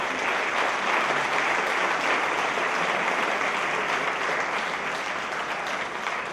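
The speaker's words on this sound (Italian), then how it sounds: "Un grande applauso" Dense, steady audience applause fills a concert hall at an Italian national festival of dialect and folk song, many hands clapping at an even, loud level throughout with no break.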